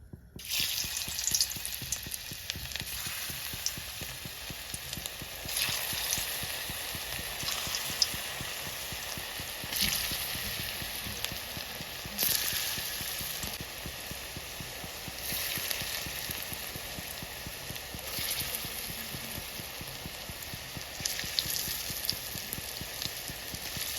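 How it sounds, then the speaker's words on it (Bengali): Potato pakoras fry in hot oil in a wok, giving a steady, fairly soft sizzle and crackle with scattered pops that continues throughout with no voices. "এবার আমি তেল দিয়ে ভেজে নেব।"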